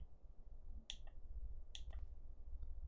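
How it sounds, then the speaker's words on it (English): Sharp clicks from a game controller's buttons during a power-washing simulator game, two quick pairs of taps and a faint later tick, close and quiet over low background hum. "So I can hear the clicking of my controller."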